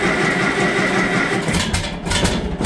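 A Farmall 400 tractor engine with a carburetor in need of rebuild catches and settles into a rough, loud idle up close, with a few irregular bursts near the end and no voices.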